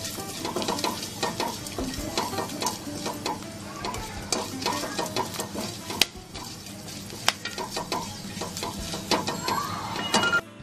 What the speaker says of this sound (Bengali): এবারে ওই তেলেই নিয়ে নিচ্ছি আমি গোটা জিরেটা ফোড়ন দিচ্ছি।